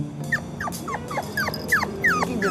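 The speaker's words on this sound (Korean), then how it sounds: "문턱에서 밖을 향해 낑낑대기 시작하는 새끼들." Puppies at a doorway whimpering toward the outside, a rapid series of about eight high, thin whines and yips in quick succession, close and clear over low background hum.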